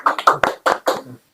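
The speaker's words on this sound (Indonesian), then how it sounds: "Tepuk tangan untuk mereka." A handful of people clap for a Pramuka Garuda scout assessment team in a small podcast studio, about six close, distinct claps in an uneven burst that quickly stops.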